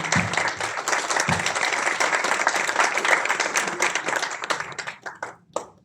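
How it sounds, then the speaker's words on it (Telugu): Audience at an outdoor media owners' association annual general meeting claps together in steady, dense applause for several seconds, fading out into a few scattered claps at the end. "అందరూ కలిసికట్టు ఒకసారి అందరూ చప్పట్లు కొట్టాలని కోరుకుంటున్నాను"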